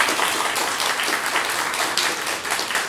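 Sustained audience applause after a community Tanabata concert by a music group, dense continuous clapping from many hands throughout, fairly close and even in level.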